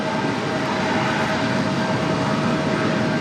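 An Embraer jet taxis in at Raleigh-Durham International Airport, its engines a steady, loud broadband whine and rumble that holds evenly throughout, with no voices heard.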